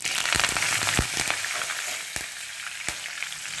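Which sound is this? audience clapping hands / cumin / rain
cumin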